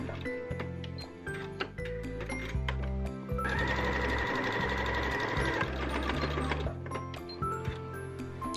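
Sewing machine stitching a straight seam down a fabric bow, running in short rhythmic bursts of rapid ticking needle strokes, with a longer continuous run in the middle, close and moderately loud.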